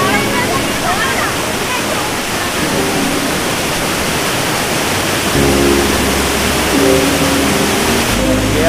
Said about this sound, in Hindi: आप देख सकते हो पूरा वाटरफॉल